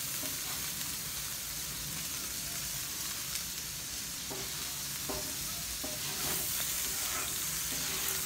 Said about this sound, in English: I'm gonna start scraping off some of this grease.